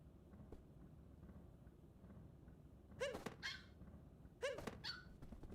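Dog in Super Mario Odyssey giving two short bursts of barking a little over a second apart, each a pair of yelps, set against a soft continuous game background ambience.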